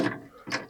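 A ratchet turning bolts out of a mobile home axle, two short bursts of rapid clicking, close and moderately loud, with a brief pause between them.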